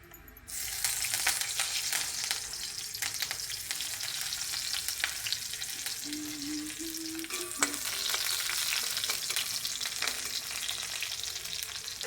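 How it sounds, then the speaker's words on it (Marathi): Loud, continuous sizzling as spices, curry leaves, chilli and garlic hit hot oil for tempering, a dense crackling hiss that holds steady throughout, with a brief clink partway through. "आता फोडणी देते."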